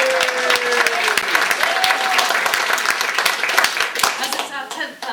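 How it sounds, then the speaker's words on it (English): An amateur pantomime audience gives warm applause for the child performers after the show, dense steady clapping with scattered voices, loud and close, tapering off at the end. "And an extra clap for all the children,"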